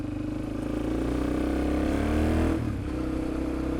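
A motorcycle with a troublesome clutch is ridden on a test run, its engine holding a steady, droning hum at fairly even revs, with a brief dip and shift in tone just past the midpoint.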